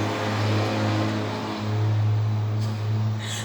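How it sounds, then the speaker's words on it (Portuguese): A truck passes by outside a house during a science lesson, a steady low engine rumble that swells and fades across the clip with no talk over it. "vamos esperar o caminhão passar."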